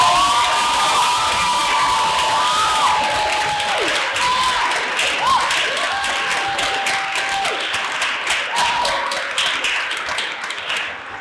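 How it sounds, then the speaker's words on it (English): A room full of people at a final debate gives the committee a loud round of applause with whoops and cheering shouts, dense clapping running throughout and slowly tapering at the end. "Let's give them a round of applause."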